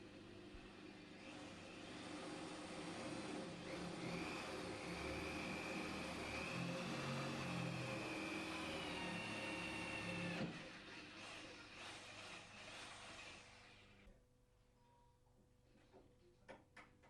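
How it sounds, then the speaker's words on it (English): A steady, loud whirring drill bores a hole in a door continuously for about ten seconds, then cuts out, leaving quieter handling noises and a few faint knocks. "Drill the hole."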